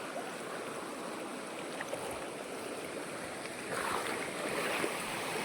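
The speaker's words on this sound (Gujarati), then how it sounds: "જો ભાઈ પેલો પૂર આડું આવી ગયું છે." Floodwater rushes across a path in Gir forest during heavy rain, a steady, fairly quiet wash of flowing water with faint splashes that grow slightly louder near the end, as if someone is wading through.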